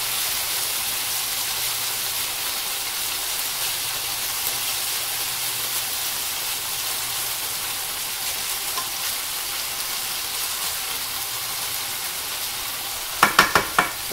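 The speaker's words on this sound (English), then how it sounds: "I'm going to spread these out with a spatula." Hash browns sizzling loudly in a pan on very high heat, a steady close hiss throughout, with a few sharp scraping clicks of a spatula near the end.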